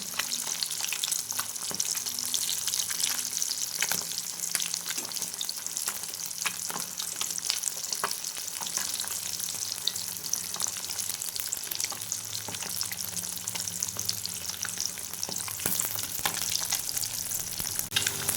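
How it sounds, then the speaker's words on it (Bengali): Bata fish pieces frying in hot oil in a pan, a dense continuous crackling sizzle, steady and close, with occasional light stirring clicks and no voices. "মাছগুলো উল্টে পাল্টে আমি ভেজে নেব"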